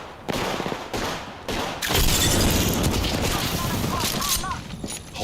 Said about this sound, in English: Throwing frags.